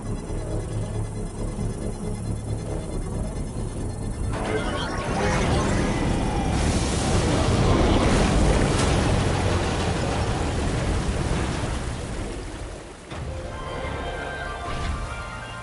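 Water bursting from an underground spring in a video game: a broad rushing hiss swells to a loud, steady gush, then eases off a little, with some low background sound and faint voice-like sound.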